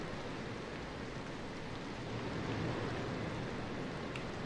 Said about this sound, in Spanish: La lluvia está muy fuerte.